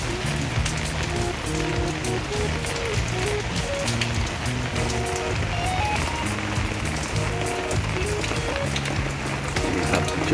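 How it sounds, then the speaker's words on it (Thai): Steady rain patters on a surface, dense and constant throughout, with faint background music tones beneath. "ตอนที่ฝนตก"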